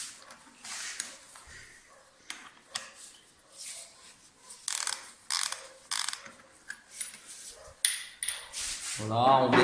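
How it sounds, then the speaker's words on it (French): A ratchet wrench cracks loose the spark plug on a Honda CR 125 motorcycle, giving a run of quick, close clicking bursts with short pauses and a heavier clatter at the end. "on desserre légèrement la bougie et puis après on la finit à la main"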